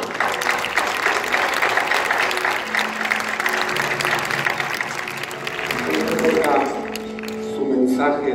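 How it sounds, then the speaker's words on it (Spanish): Audience applause at a peace gathering, a steady broadband wash of clapping filling the space for several seconds, with some voices and sustained tones rising underneath toward the end. "un aplauso, por favor."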